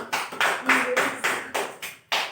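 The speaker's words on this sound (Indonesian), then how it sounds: "Beri tepuk tangan untuk Kalisa" About seven claps spaced evenly and close, like a small group of students clapping in a rhythmic beat in a classroom.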